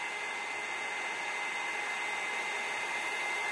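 Heat tool blowing hot air to heat emboss a card, a steady close hiss of airflow holding at one level throughout with no talk.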